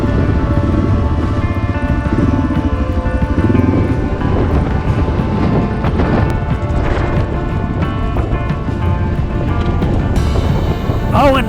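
Strong wind buffets the microphone in a constant loud roar while riding an adventure motorcycle in Tasmania, with engine-like rumbling and clattering mixed in throughout.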